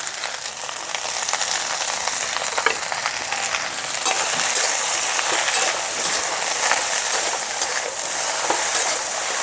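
Okra and potato pieces fry in a pan with a bright, steady sizzle, stirred now and then with faint scraping clinks, continuous and fairly loud throughout.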